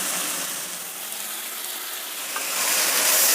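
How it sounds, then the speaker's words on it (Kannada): Washed rice frying in a hot oil tempering with moong dal gives off a steady, close, hissing sizzle that swells slightly toward the end, with no talking. "ಅಕ್ಕಿ ಸೇರಿಸಿದ ಮೇಲೆ ಸ್ವಲ್ಪ ಹುರಿಬೇಕು ಒಗ್ಗರಣೆಯಲ್ಲಿ"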